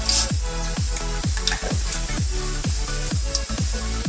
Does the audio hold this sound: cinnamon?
yes